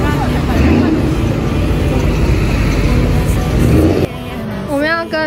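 Busy road traffic with many cars in Tainan makes a dense, continuous roar close by. Voices of people talking join near the end.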